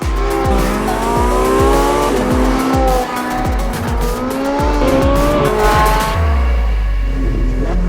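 Porsche 918 Spyder with its naturally aspirated race-derived V8 driven hard with the roof off, engine loud and close as it revs up and down through repeated gear changes and corners, with tire squeal, no talking.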